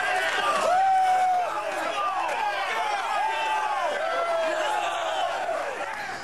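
A large stadium crowd at a Michigan college football rivalry game in Ann Arbor roars and chants in broad swelling waves, loud and continuous.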